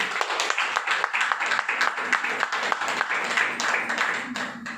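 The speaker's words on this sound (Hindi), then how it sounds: "जोरदार ताली हो" Audience applause at a training meeting, a dense crowd of hands clapping steadily and loudly throughout, with some voices mixed in.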